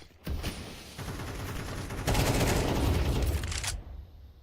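Heavy gunfire in a competitive esports shooter match, bursts fired through a wall, starting abruptly and swelling into a dense, loud sustained fusillade before cutting off near the end.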